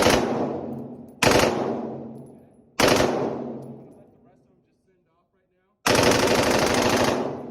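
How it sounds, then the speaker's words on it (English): Bursts of full-auto fire from a military firearm: three loud rapid strings ringing out with long decaying echoes, a pause of near silence, then a final sustained burst. "So it does not take a whole lot to shoot full auto."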